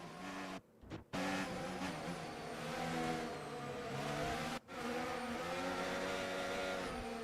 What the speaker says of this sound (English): Listen to the revs of the car.